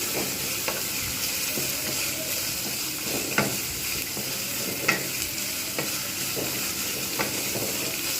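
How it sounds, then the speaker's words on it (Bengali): Bitter gourd and potato slices sizzle steadily in a hot pan while a utensil stirs, with occasional scraping clicks over the constant frying hiss. "ভালোভাবে এর সঙ্গে মিক্স করে নিলাম"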